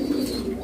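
A fancy pigeon at a farm gives a short low coo, close by and alone.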